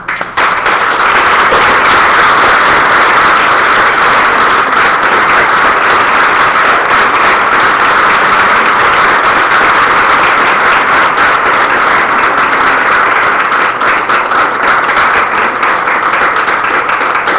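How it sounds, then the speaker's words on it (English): Loud, sustained applause from an audience at a 3M Health Leadership Award gala, a dense steady roar of clapping that fills the room without letup. "Please join me in a big round of applause for Jocelyn."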